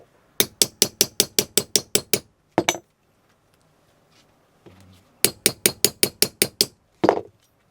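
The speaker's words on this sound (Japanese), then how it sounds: "手切りで切ったらなかなか上手に切れないからさ、ポンチで道具を使ってね" Hole punch struck repeatedly with a hammer to cut wrestling mask material: two fast runs of about eight sharp metallic blows each, separated by a quiet pause, with a few heavier isolated knocks, close and loud.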